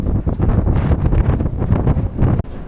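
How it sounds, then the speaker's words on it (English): Strong coastal wind in northern France buffets action camera microphones, giving a continuous loud roaring rumble with gusty surges and no speech. "We have lots of wind."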